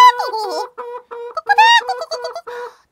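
A chicken clucks in a string of close, loud, choppy calls with short gaps between them, standing alone without any talk.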